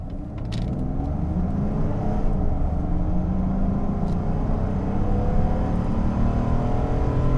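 A Mercedes-Benz W140 V12 with a four-speed gearbox accelerates hard, its engine note climbing steadily and loudly through a long-stretched gear over several seconds, heard close with no talking.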